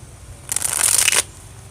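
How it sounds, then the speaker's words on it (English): A short, crisp riffle shuffle of playing cards, a quick fluttering burst of about half a second, close and alone in a quiet room. "maybe I'm just not a good riffle shuffler"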